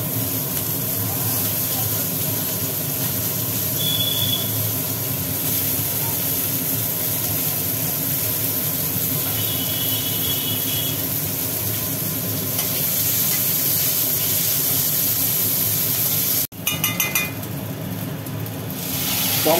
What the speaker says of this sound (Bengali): পেঁয়াজগুলো একটু ভাজি ভাজি করবো।